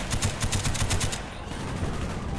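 A rapid string of automatic gunshots in Call of Duty: Black Ops fires in quick rhythm for about a second, then stops, leaving a steady background hiss.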